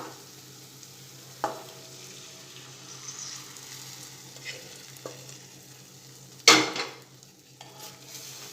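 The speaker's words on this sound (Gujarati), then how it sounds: "હવે એમાં જે આપણે દાળ બાફીને રાખેલી એ આપણે એડ કરી દઈશું." Boiled dal added to a pan of sizzling spiced masala for dal fry, with a soft steady sizzle, occasional utensil scrapes and stirs, and one louder splash-and-hiss as the lentils go in.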